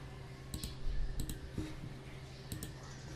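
Computer mouse clicks on a Windows desktop, heard as a few crisp, close double-clicks spaced across a quiet room with a low steady hum underneath.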